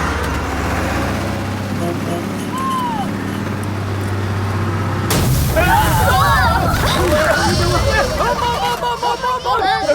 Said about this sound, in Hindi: कोई बम नहीं फूटा, बस का टायर है।